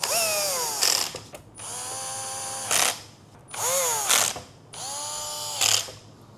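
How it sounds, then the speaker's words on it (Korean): Electric screwdriver driving motherboard screws at its lowest torque setting while assembling a Lian Li O11 EVO RGB Lamborghini Edition PC; four close whirring bursts, each winding up and ending in a short ratcheting clutch click. "메인보드 나사 체결을 할 때는 최대한 제일 약한 토크로"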